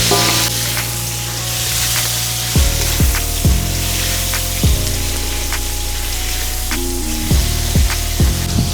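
Shrimp sizzling as they are added to a hot pot with cabbage and potatoes for a seafood boil, a loud continuous frying hiss with several sharp clunks of pieces dropping in and stirring.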